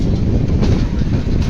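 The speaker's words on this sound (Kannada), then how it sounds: "ಫೈನಲ್ ಆಗಿ ನಮ್ಮ ಟ್ರೈನು ಸಮಲಕೋಟ್ ಜಂಕ್ಷನ್ಗೆ ಬಂದಿದೆ" A passenger train on the Visakhapatnam to Bengaluru route rumbles along, a loud continuous roar of wheels and carriage noise with a hint of wind.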